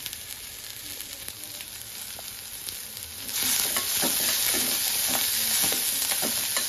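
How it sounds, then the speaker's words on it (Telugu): Onions, curry leaves and coriander fry for gobi manchurian, a steady close sizzle with scraping stirs that grows louder and denser about halfway through, with no talking. "అలాగే ఆనియన్స్, అలాగే కొంచెం కరివేపాకు, కొంచెం కొత్తిమీర, ఇవన్నీ బాగా ఫ్రై చేసుకోవాలి."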